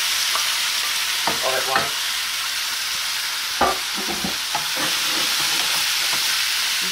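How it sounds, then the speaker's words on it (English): Ground beef frying in a smoking-hot pan gives a loud, continuous sizzle, broken by scraping stirs and clatters of the utensil, while a voice briefly speaks over it. "You're just gonna put all your beef in."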